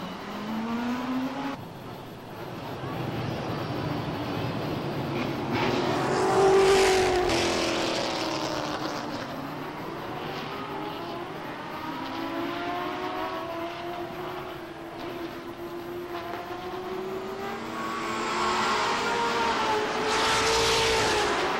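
Pro stock race cars lap Lee USA Speedway during a 100-lap feature in 1993, their engines droning steadily, with the loud roar of cars swelling and fading as they sweep past close by.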